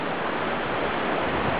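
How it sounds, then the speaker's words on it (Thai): Water rushes steadily in a forest stream, a dense, even hiss close by with no breaks or voices. "ต้องมีลำธารน้ำนะครับนี่น้ำมันน้อยแล้วนะครับ"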